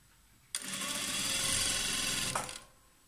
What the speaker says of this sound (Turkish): bu şekilde yakama dikiyorum.